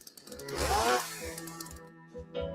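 A chainsaw sound effect in a radio ad for snoring and sleep apnea help: a loud, rough revving burst that peaks early, then settles into a lower sputtering idle with a short rev near the end, heard alone.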